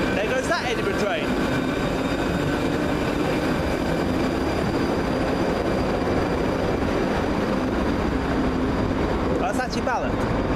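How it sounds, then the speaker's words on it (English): An Edinburgh train in Scotland rumbles past close by, a steady heavy roar with faint rail clatter that holds for the whole stretch. "There goes that Edinburgh train."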